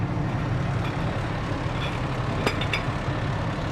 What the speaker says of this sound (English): here we have the City of Las Vegas truck company that's departing and heading back to